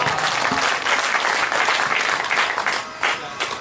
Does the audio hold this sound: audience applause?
yes